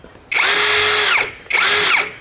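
A TEXUS BULL TX9629 cordless impact drill in second gear at 2000 rpm whirs in two close, loud bursts, each spinning up steadily and then winding down.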